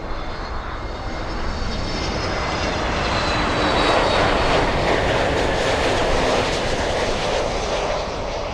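Cathay Pacific jet airliner accelerating down the runway at Miami International Airport, a loud, steady engine roar that swells slightly and holds throughout, with no talk.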